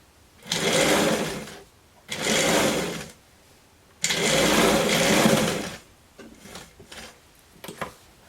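A sewing machine stitches fabric for a simple Japanese-style dress, running in three close, loud bursts of about one to two seconds each with short pauses, followed by faint handling noises.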